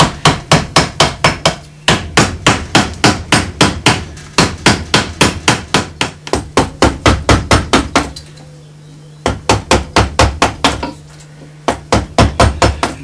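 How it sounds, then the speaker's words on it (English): Mallet striking a chisel while carving a carp from walnut, sharp ringing blows in quick, steady runs of three to six, close and loud, with brief pauses between bursts and no talk. "sometimes it means getting back in there with a chisel again"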